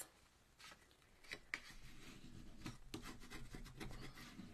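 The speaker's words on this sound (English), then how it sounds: "we can burnish this" A card maker burnishes the fold of a scored 8 1/2 by 5 1/2 piece of cardstock, producing soft, close, repeated rubbing strokes that grow into steady scraping.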